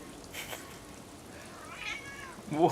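A cat meows indoors, a soft mewing call early on, then a rising meow and a louder final cry, fairly close and otherwise quiet.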